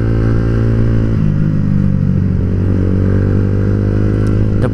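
A Yamaha Vixion or Honda CB150R motorcycle speeds off on a night ride, its engine loud and close with a steady droning rev and a clattering shift partway through, no voices.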